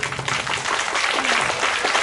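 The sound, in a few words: audience applause at a music program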